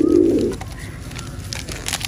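A pigeon gives a low, throaty coo up close at the start, followed by faint fluttering and rustling.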